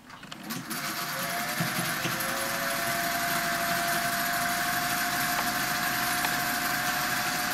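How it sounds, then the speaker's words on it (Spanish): Sewing machine stitching the other side of an apron, a loud, steady close mechanical whir with a clear running hum that starts up and holds at an even pace. "Vamos a coser este por este otro lado."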